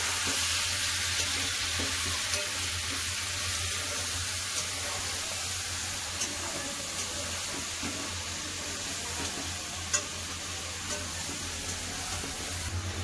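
Chicken fries with whole spices, including mace, in a kadai, giving a low, even sizzle throughout with a few faint clicks and no talking.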